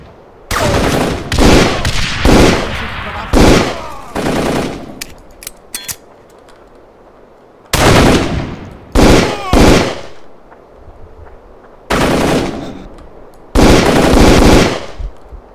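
Loud machine-gun bursts from the Darkest of Days video game, rapid rattling volleys in several separate bursts with brief pauses between them, close and dominant.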